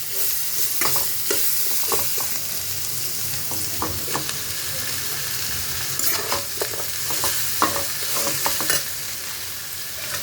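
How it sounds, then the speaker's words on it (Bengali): Fenugreek greens with green chillies fry in a pan, giving a steady close sizzle while a spoon stirs and scrapes in repeated short strokes. "দিয়ে ভালো করে একটু নেড়ে চেড়ে এবার শাকগুলো দিয়ে দেবো আমি এর মধ্যে"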